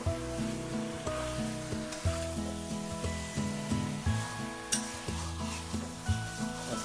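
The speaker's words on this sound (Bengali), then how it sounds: "ভালো করে নাড়ানো হচ্ছে।" Meat is stirred and fried in a pan at a village picnic, with a soft, steady sizzle and occasional scraping under louder background music.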